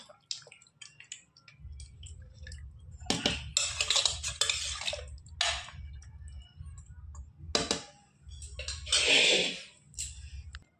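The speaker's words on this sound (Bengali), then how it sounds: "পরিমাণ মতো জল দিয়ে দিচ্ছি" Water poured into mutton curry in a pot, bursts of gushing and splashing separated by pauses, with a low bubbling simmer beneath, close and fairly quiet, no voices.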